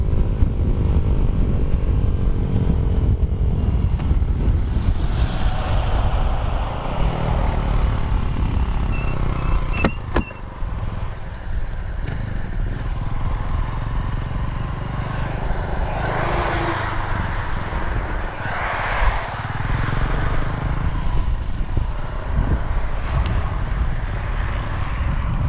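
A Honda CG 150 motorcycle engine drones loudly and continuously for about 25 seconds on a road with a descent and a straight, its pitch rising and falling with the throttle, close up and with no talk.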